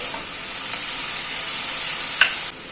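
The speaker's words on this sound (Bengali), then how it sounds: "কারি পাতাটা দিয়ে মশলার সাথে একটুখানি কষিয়ে নিচ্ছি" Curry leaves and spices sautéing in a pan, a loud, steady hiss of frying with an occasional sharper pop or crackle near the end, with no voices.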